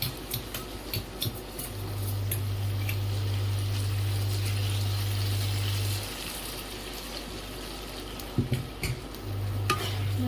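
Chili chicken gravy thickened with cornstarch slurry is stirred in a pan, giving a continuous close sizzle and bubbling with a low steady hum underneath and occasional spoon scrapes near the end.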